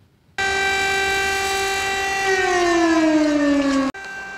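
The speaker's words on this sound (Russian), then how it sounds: "звучали сирены экстренного оповещения гражданской обороны" A civil defense emergency warning siren sounds in Barnaul during a nationwide alert, a loud sustained wail that holds steady and then slides downward in pitch before cutting off abruptly.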